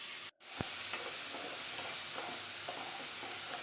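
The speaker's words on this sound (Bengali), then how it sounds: "এবার এটা মশলাটা আমি পেঁয়াজে আদা রসুনটা একসঙ্গে কষিয়ে নেব" Onion, ginger and garlic spice paste frying in a pan, a steady close sizzle with soft hiss throughout, briefly cut after a moment, with faint stirring clicks.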